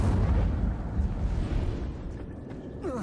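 Incendio fire spell cast in the video game Hogwarts Legacy, a loud, dense whooshing roar of flame that stays steady for about three seconds and flares again briefly near the end.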